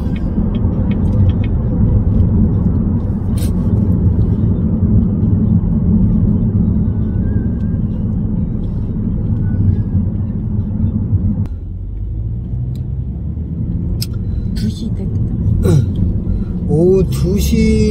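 A Chevrolet Impala 2.5 converted to LPG cruises a Seoul expressway at 100 to 120 km/h, its low steady road and engine rumble filling the cabin, easing briefly near the end, while someone talks over it.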